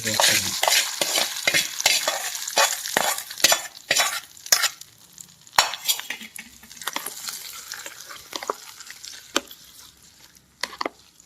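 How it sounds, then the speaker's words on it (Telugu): A spoon stirs hot tempering into gongura chutney, scraping the pan in quick repeated strokes over a soft sizzle. The strokes grow sparser and quieter, then a few clinks follow. "ఒకసారి పచ్చడి మొత్తం ఇలా కలిపేసుకుందాము"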